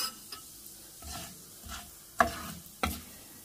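Chillies and cumin frying in oil in a pan, a soft steady sizzle with a few sharp stirring scrapes and knocks of a spoon against the pan near the end; no talking.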